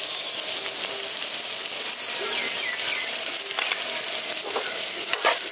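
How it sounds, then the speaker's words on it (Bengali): Ground spices and a spoonful of gram flour are stirred in a hot pan, giving a soft, steady frying sizzle broken by scrapes and light clinks of the spoon, with no voices. "ভালো করে মিশিয়ে দিচ্ছি।"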